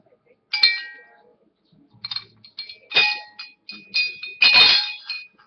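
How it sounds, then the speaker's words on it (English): A handheld bell, a souvenir picked up at a hockey game, is struck several times in irregular bursts, each a bright metallic clang with a ringing tail, loud and close with no talking. "My bell."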